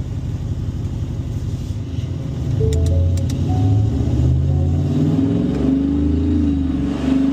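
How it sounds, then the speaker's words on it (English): A supercharged Ford F150 5.0 with catless long-tube headers rumbles at idle, then revs up loudly and deeply, holding higher engine speed before easing back, heard close and alone. "Truck is obviously much louder, which is expected with long tubes as well, especially catless long tubes."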